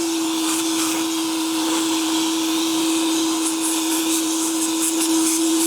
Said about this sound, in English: I'm gonna vacuum this up and turn off the pump